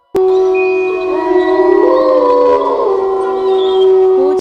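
Village dogs howl in a horror story, a long steady tone with layered higher wails that rise and waver, loud and continuous throughout with no talk over it.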